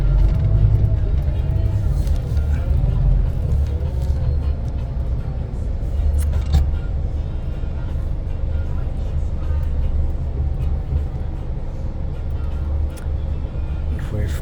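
Ride aboard a nondescript, non-numbered rail replacement bus heading to Melbourne Airport, with a steady low engine rumble and road noise running throughout, close and even in level.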